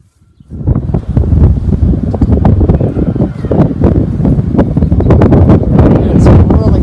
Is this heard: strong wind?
yes